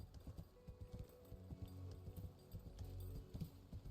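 Horse hooves clip-clop in the Wayfinder video game, a quick rhythmic trot of close, crisp hoofbeats over a low, steady soundtrack drone.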